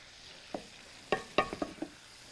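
Shrimp cooking in butter in a pan and being turned over: a few faint scrapes and clinks of a utensil over a soft, quiet sizzle, with no voices.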